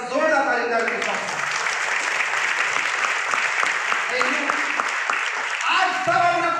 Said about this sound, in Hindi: आप सब बधाई के पात्र हैं, बड़ी जोरदार ताली के साथ।